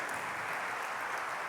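Steady, dense applause from an audience during a podcast interview, a brief burst of continuous clapping at low level with no talking over it.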